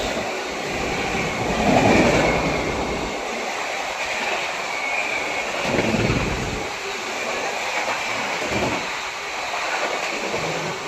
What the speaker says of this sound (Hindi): रांची राजधानी एक्सप्रेस।